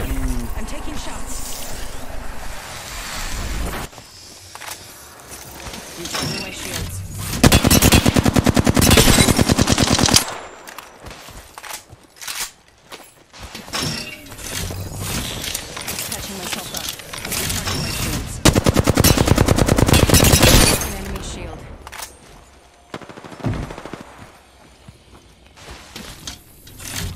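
Rapid automatic gunfire from a first-person shooter video game comes in loud, sustained bursts, several long stretches of dense firing separated by quieter gaps, with a voice talking over parts of it.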